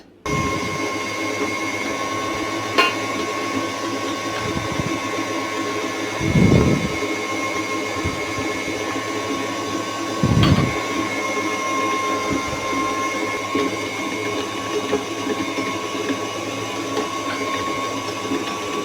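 An electric mixer kneads pizza dough made with salty cheese, mustard and soy sauce, a steady whirring motor hum running the whole time with a few brief thuds and surges.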